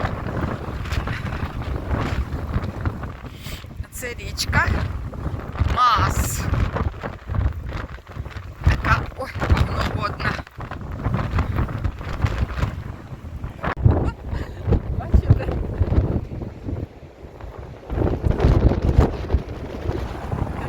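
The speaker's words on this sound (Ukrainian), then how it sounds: "а тут такий вітер" Strong gusting storm wind by a river in the Netherlands buffets the microphone in a continuous roar, with water noise beneath and occasional speech breaking through.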